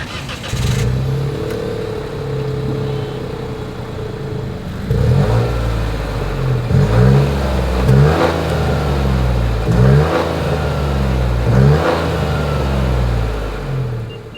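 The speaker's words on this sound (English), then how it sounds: "As always, here is that exhaust clip." A 2025 Nissan Rogue crossover idles and then is revved several times, each engine rise and fall clear and loud from the exhaust, with no talk.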